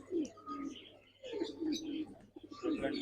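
Pigeons coo softly in a loft, with low rolling calls repeating at a close distance and faint chirps between them.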